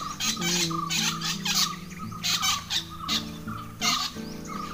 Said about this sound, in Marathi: सगळा पक्षी ओरडतात.